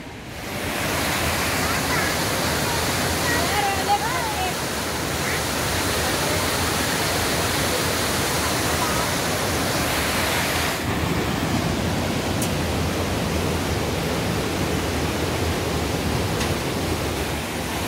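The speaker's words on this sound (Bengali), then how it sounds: "ঝর্ণার আওয়াজ পাওয়া যাচ্ছে কিন্তু ঝর্ণার দেখা পাওয়া যাচ্ছে না" Steady, dense roar of Kempty Falls near Mussoorie, loud and continuous throughout, with a slight shift in tone partway through.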